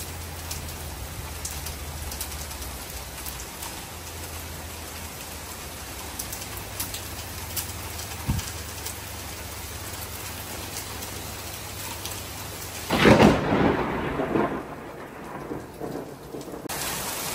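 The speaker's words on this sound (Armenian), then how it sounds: "Իսում եք ամպրոպի ձայնը" Steady rain pours throughout, then a sudden loud thunderclap cracks and rumbles near the end before the downpour continues.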